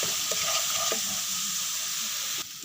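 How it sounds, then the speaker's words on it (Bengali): Ground spices such as coriander and green chili powder sizzle steadily in a hot pan for a katla fish-head muri ghonto, with a few scraping stirs before the hiss drops off near the end. "মশলাটা হালকা ভেজে কষিয়ে নিব"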